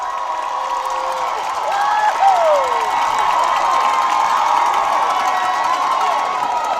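A high school basketball crowd roaring and cheering in a gym late in the game, a loud sustained wash of voices and shouts that swells slightly midway and stays steady to the end.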